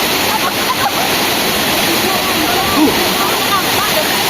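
Langkuik Tamiang waterfall at Malalak pours with a steady, loud, close roar of rushing water that fills the whole stretch without a break.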